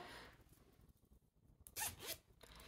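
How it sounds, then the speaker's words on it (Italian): A zip on the fabric lining of a crochet bobble-stitch bag is pulled open close up, a short quiet rasp followed by two brighter zipping strokes. "Una volta pronta la fodera, apriamo la zip"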